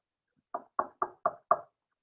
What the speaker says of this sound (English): Someone is knocking.